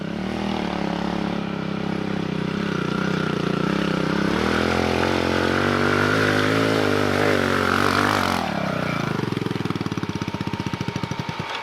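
A dirt bike engine revs on a track. The loud, close drone climbs steadily in pitch and then drops sharply near the end into a rougher, choppy idle.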